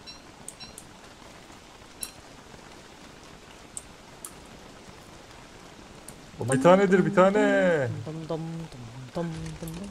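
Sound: rain in the video game Don't Starve Together

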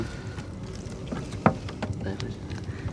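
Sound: fishing boat moving on the water

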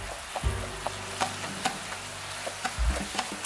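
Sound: chili sauce simmering and being stirred in a pan

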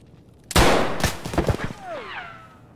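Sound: MTS-255 revolver shotgun firing in Escape From Tarkov video game

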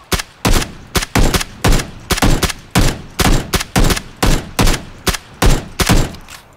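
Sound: gunfire in the video game Battlegrounds (PUBG)

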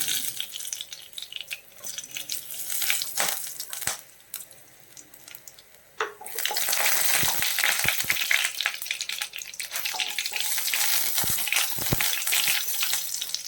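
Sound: cloves, cardamom and peppercorns sizzling in hot oil

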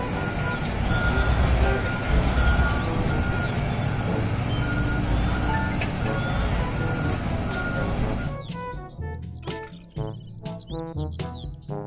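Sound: toy mining dump truck reversing beeps

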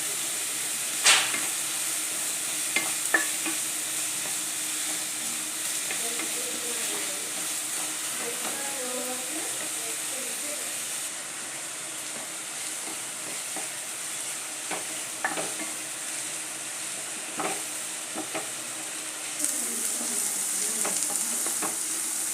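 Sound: onions sautéing and sizzling in a pan

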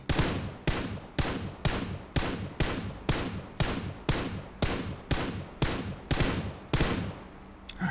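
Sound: gunfire in a video game

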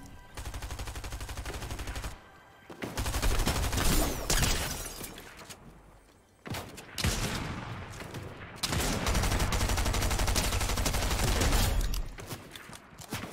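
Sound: gunfire in the video game Fortnite

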